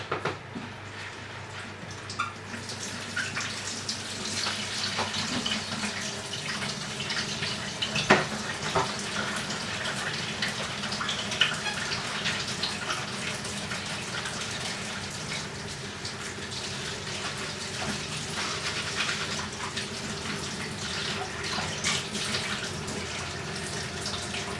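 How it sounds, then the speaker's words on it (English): A kitchen tap runs steadily as hands are washed during roast chicken preparation. The water makes a continuous close splashing hiss with a few small spattering accents. "I'm gonna wash my hands and come back to you."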